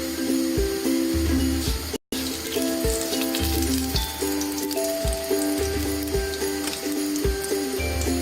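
Cumin seeds and bay leaf sizzle and crackle in hot oil for palak paneer, a steady loud frying hiss with scattered pops, briefly cut silent for a moment partway through.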